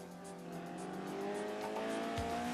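Race cars on the Vallejo Grand Prix city street course, a steady engine roar with faint tire squeal, fairly close and held throughout a brief moment, no voices.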